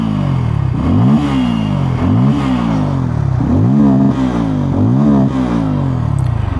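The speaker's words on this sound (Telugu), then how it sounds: "ఫ్రెండ్స్, ఒకసారి ఎగ్జాస్ట్ సౌండ్ వినండి." A Bajaj Pulsar N250 motorcycle exhaust revs loudly and close by, repeated throttle blips rising and falling in pitch in a regular rhythm, about five rev cycles with no talking.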